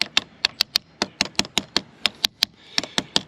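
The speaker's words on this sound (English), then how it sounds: "I'm just going to use the bottom of this ratchet to knock everything down in place properly" The butt end of a ratchet taps a car battery terminal connector down onto the post, about fifteen sharp metallic knocks in an uneven rhythm, close and fairly loud, with no voices.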